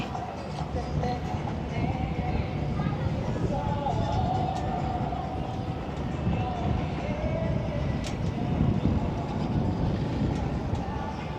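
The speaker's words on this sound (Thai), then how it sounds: "รถไฟฟ้านะครับ" An electric train rumbles steadily past, a continuous broad roar with faint rail squeals, while people talk over it.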